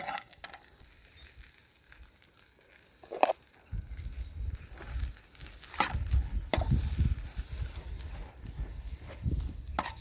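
Ramson buds and mushrooms fry in a pan over an outdoor campfire, a crackling sizzle that swells after a few seconds, with scattered stirring scrapes and pops, close up and with no voices.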